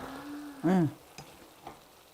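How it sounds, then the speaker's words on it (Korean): Whole perilla seeds and napa cabbage kimchi are stir-fried gently over low heat in a pan for a Korean temple-style vegan dish. A soft, faint sizzle runs throughout, with a brief squeak and a few light scrapes. "불을 낮춰가면서 살살 볶으세요."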